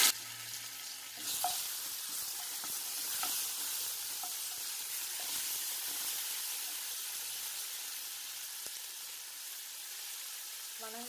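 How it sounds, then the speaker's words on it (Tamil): Bay leaf, cinnamon, cloves, cumin and ginger garlic paste sizzle steadily in hot oil in a pan, with a continuous crackling hiss and occasional soft stirring scrapes, close and even throughout. "அது கூடவே வந்து நல்லா இஞ்சி பூண்டு பேஸ்ட்டையும் போட்டு வணக்கிடுங்க."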